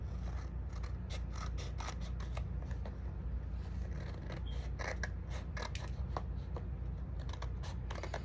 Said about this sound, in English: I'm just gonna go ahead and cut the extra pieces from the back.